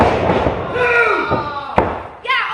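A professional wrestler is hit with an exploder suplex in a Daily Wrestling match, a single sharp slam thudding on the ring mat under loud play-by-play commentary, with crowd noise behind.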